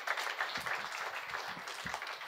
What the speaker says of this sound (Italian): Fate anche un applauso così,